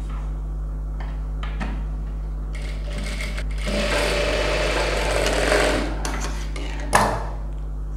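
Sewing machine stitching a designer blouse with tulip sleeves, a few short starts, then a longer steady whirring run of stitches, ending with a sharp clack.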